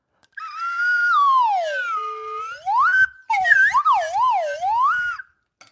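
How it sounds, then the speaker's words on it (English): A slide whistle glides down in a long smooth swoop, rises back up, then warbles in quick wavy up-and-down slides, bright and close with no voices. "Let me do a slide whistle."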